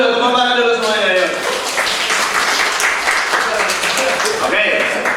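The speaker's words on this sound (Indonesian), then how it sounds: "tepuk tangan dulu semuanya" Group of people clapping together in a classroom-style game session, loud close applause following spoken voices at the start, the clapping sustained for several seconds.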